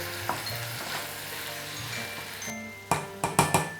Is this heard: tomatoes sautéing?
yes